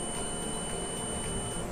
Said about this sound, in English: Let's check with the multimeter for the continuity. The lower one, this is the connection here. You will hear the beep sound.